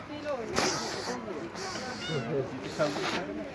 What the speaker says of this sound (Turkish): Arkadaşlar kedi var.